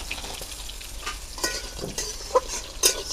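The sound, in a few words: bori (lentil dumplings) frying with onion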